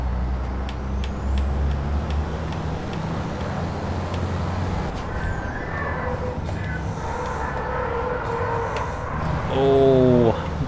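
A racing truck drives in the Truck Racing Championship game on Xbox One, with a continuous loud, gritty engine roar and hiss. Faint tonal sweeps pass in the background, and a brief rising whine comes near the end.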